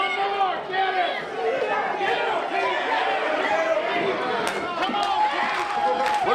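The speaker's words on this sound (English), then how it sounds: "the crowd wants more" Arena crowd at a pro wrestling show, a dense wash of cheering and chatter that holds steady throughout, with scattered sharp claps and bangs rising out of the din and commentators' voices mixed over it.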